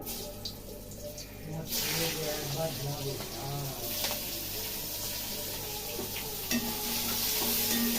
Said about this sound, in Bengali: ভালো করে পেঁয়াজটা ভাজা ভাজা করে নিয়ে